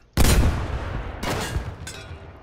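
Video game gunfire: a loud close blast opens, followed by two more weaker bursts roughly a second apart, each trailing off in a noisy decay.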